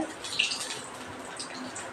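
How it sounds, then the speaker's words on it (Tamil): Sesame oil is poured into a cooking pan, giving a faint, soft liquid trickle with a small splash near the start, close by and quiet with no talk over it. "நல்லெண்ணெய் ஊற்றிக்கலாம்."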